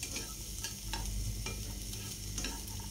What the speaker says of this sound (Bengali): এই পর্যায়ে কড়াইতে দিয়ে দিচ্ছি আস্ত রসুন, কাঁচামরিচ এবং পেঁয়াজ